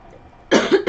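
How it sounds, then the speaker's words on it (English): A single cough from a nearby person bursts out after a quiet stretch, two loud harsh bursts close together, then a shorter third onset at the very end. "Not sure where this cough is coming from."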